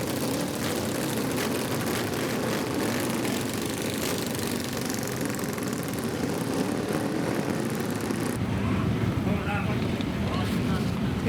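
A Moto Guzzi motorcycle roars past at a street race in Methven, a loud, rough engine note that swells and then drops away, with crowd noise and voices under it.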